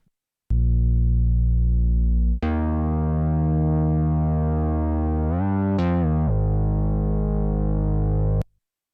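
A deep, subby synth bass layer plays sustained held notes, loud and alone, shifting pitch a few times with a brief bright swell before cutting off.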